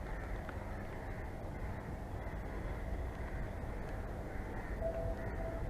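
Sirsa Express passenger train running at steady speed, a continuous low rumble and rolling noise heard from inside a chair car, with a faint crow cawing in the background.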